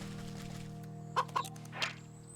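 A pheasant in the video game Wytchwood gives a few short, chicken-like clucks, three quick calls in close succession over a steady low hum, with no talk.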